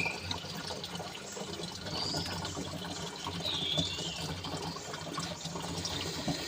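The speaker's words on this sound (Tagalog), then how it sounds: "Ganyan lang po kalakas yung tulo ng tubig dito guys." Water trickles and splashes steadily from a spring nearby, a continuous light flow with occasional bright gurgles, heard alone without speech.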